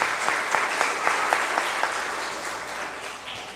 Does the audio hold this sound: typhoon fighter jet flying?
no